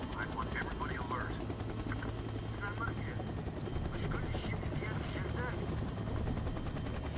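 A helicopter in the stealth game Splinter Cell: Double Agent, set at a Shanghai hotel, hums with a steady low rotor drone under voices talking throughout.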